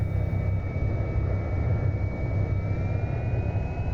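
A light aircraft's engine in the X-Plane 11 flight simulator drones steadily and close as the plane starts taxiing, a continuous low rumble with a thin whining tone that rises slightly toward the end.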